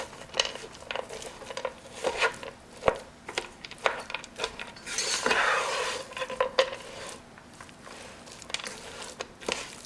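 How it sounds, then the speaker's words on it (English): A spatula cuts through and scrapes a sticky date halwa mixture in a pan, giving irregular taps, knocks and scraping strokes with a soft sizzle, close and fairly clear. "I'm just cutting it up just a little bit so the temperature goes up"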